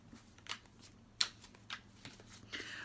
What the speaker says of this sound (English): so the cards are shuffled